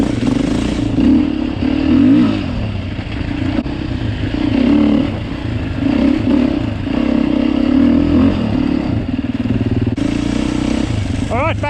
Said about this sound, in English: The engine is great, plenty of power there when you need it.